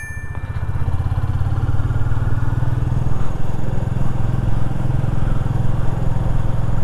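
A Royal Enfield Classic 350 single-cylinder motorcycle engine, still being broken in, thumps steadily while riding in Salvador, a loud, continuous low chugging throb close to the microphone.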